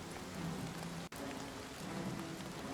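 Steady, dense rain falls in the video game Oblivion Remastered, an even wash of drops with a brief dropout partway through and no voices.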